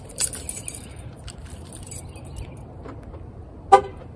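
A car horn chirps briefly as the vehicle is locked by remote after a run, preceded by jangling keys and light handling noises in a quiet outdoor spot.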